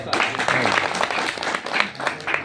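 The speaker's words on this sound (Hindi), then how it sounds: "उनके लिए भी जोरदार ताली हो जाएगी" A crowd at a youth movement rally claps and cheers in a steady, dense burst of applause that carries on throughout, with some voices mixed in.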